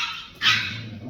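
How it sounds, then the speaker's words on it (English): Dogs quarrelling nearby, a single sharp bark or yelp bursting out mid-clip over a quiet room, then tailing off into lower growly noise. "there's a row going on with the dogs at the moment"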